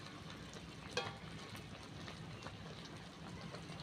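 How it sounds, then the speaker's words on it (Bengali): Jaggery cooking down with mango for a sweet-spicy mango pickle, giving a soft, steady bubbling sizzle with faint stirring scrapes and one brief sharper clink near the start. "এবার আমাকে গুড়টাকে ভালোভাবে পাক দিতে হবে আমটার সাথে"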